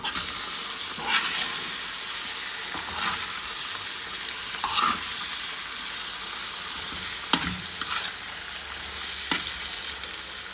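Eggs sizzle and fry steadily in a pan while vegetable cheese crepes are made, a constant close hiss broken by a few soft scraping stirs.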